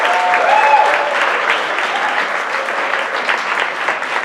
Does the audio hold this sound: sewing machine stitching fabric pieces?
no